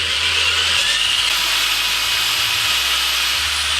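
A power drill spins a round apple on a table, a loud steady high whine that holds unbroken for several seconds, close by with no speech.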